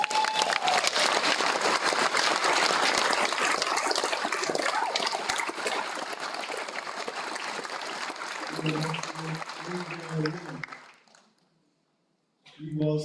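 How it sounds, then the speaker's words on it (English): Audience applause at a celebration held at Raglan Area School, a dense wash of clapping that fades out near the end, with a voice briefly heard afterward. "How about a round of applause for Marion Cox"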